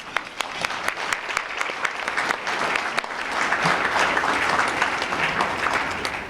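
Audience applause at a mayor's breakfast held by a chamber of commerce, a full room of people clapping nearby, sharp claps at first that swell into a sustained ovation.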